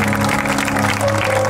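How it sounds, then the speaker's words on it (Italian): Applause at a community event in Lanusei, dedicated to a departed friend, fills the clip as a dense, steady roar of clapping with a sustained tonal hum running underneath. "a lei voglio dedicare questo applauso"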